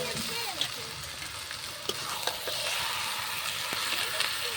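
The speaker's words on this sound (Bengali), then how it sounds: "চিকেনটা দিয়েছি, দিয়ে একটু কষিয়ে নিয়ে তারপরে আবার নুন হলুদটা দেবো" Chicken leg pieces sizzle and fry in a spiced pan during home meat cooking, a steady hiss with occasional stirring clinks and scrapes throughout.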